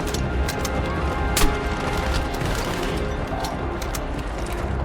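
Battlefield 6 gunfire fills the scene: rapid overlapping shots and bursts crackle continuously, loud and dense, with one sharp louder crack partway through over a busy battle backdrop.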